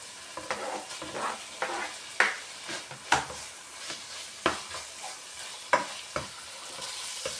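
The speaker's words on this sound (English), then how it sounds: "I want the meat to fry up a little bit more" Meat frying in a pan for chilli con carne, a soft sizzle broken by regular stirring scrapes and taps about once a second, close and moderately loud.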